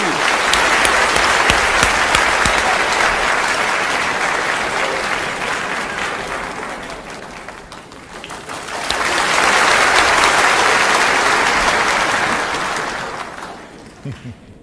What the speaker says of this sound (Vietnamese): Xin quý vị một tràng pháo tay thật kêu giới thiệu Rick Murphy.